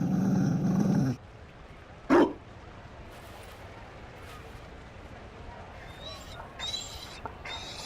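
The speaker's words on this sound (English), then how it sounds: "You found a dog." A Mabari war dog in Dragon Age: Inquisition lets out a loud, close growl lasting about a second, then one short sharp bark, followed by quieter ambience and faint game sounds.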